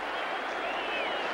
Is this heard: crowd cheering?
yes